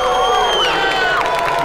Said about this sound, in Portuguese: Torcida empolgada.